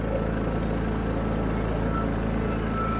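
A Honda canopy generator engine heard up close hums steadily, a constant low, even drone that fills the clip without any voices.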